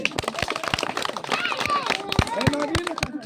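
Crowd of people clapping their hands in a quick, uneven burst of sharp claps at close range, mixed with voices and shouting over the top.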